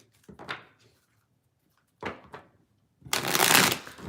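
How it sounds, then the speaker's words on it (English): Tarot cards being shuffled up close, heard as three separate bursts of riffling and shuffling, the last one the longest and loudest. "let me do some pre-shuffling"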